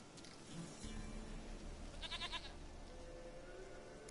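A goat bleats in The Witcher 3 over a dense game soundscape, with a few short calls early and a brighter bleat in the middle, all at moderate volume and steady throughout.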